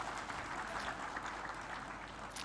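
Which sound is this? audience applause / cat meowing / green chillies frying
audience applause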